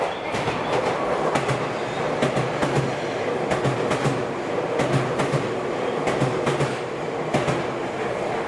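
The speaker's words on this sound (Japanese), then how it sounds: "番線を電車が通過します。" A train passes through a Japanese station at high speed, loud continuous roar with rhythmic clickety-clack of wheels over rail joints.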